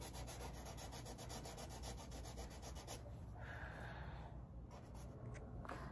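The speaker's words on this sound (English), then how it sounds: "sanding I did by hand." Rhythmic scratchy rubbing of sandpaper on a wooden cedar chest by hand, quiet and close, with regular back-and-forth strokes that slow and thin out toward the end.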